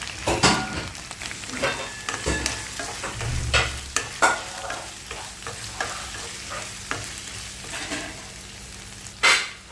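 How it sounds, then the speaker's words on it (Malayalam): Chopped tomatoes and onions frying in a pan for a Kerala chicken chilli curry, a steady close sizzle broken by repeated scraping stirs and a sharp clatter near the end, with no voices. "ഈ മൂന്ന് ചെറിയ തക്കാളി അരിഞ്ഞ് വെച്ചതാണ് അതിട്ട് കൊടുക്കുക"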